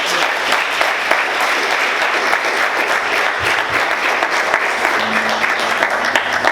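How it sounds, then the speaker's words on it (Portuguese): A church congregation applauds loudly and steadily, a dense, sustained wash of clapping filling the room throughout with no pause. "Você pode aplaudir Jesus bem forte,"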